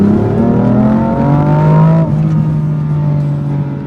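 A BMW M4 Competition engine revving hard while driving, a loud close rising howl that climbs through the revs, drops at a gear change and pulls on steadily.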